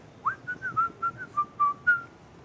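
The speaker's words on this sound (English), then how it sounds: "Someone is whistling the everybody was kung fu" A person whistles a short snatch of "Kung Fu Fighting" alone, eight or so clear, bright notes in a bouncy rhythm, fairly close.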